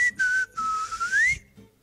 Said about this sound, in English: I can whistle while smiling